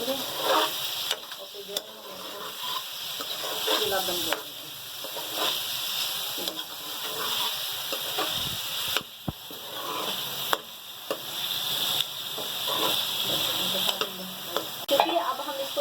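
Stuffed taro (arbi) fries in a pan with steady, close sizzling and crackling, while occasional stirring and scraping of a utensil cut in and out.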